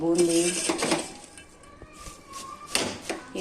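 Fried boondi being stirred into sugar syrup in a metal pot for laddus, with scraping and clinking of a spoon against the vessel in short bursts while someone talks over it.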